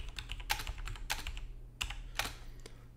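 Someone types a password on a computer keyboard while setting up a Pi-hole ad-blocking DNS server: a sparse run of close, crisp keystroke clicks with short pauses between them.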